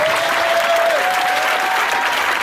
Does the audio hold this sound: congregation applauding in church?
yes